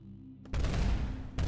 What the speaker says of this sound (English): let's watch that rocket come down again